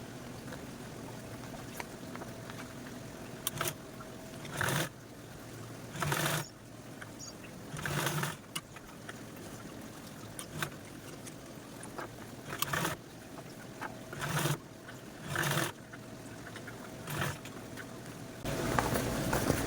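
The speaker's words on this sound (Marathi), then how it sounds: "मी ह्या झीपवरती पण टॉप स्टिच देऊन घेते" A sewing machine top-stitching along a zip on an iron cover, short bursts of whirring stitching separated by pauses, fairly faint and close.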